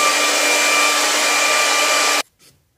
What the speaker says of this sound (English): Now I'm going to blow dry this, being acrylic, so I can add my moon.